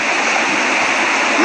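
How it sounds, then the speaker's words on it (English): Steady, dense rush of rain falling during Hurricane Irma in North Miami, a loud continuous hiss with no breaks. "It's starting to rain finally."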